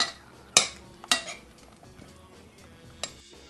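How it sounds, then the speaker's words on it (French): Utensil gently stirring a lightly acid-cured tapas salad in a bowl, with a few sharp clinks against the bowl and soft scraping in between, close and fairly quiet. "Voilà, on remue tranquillement."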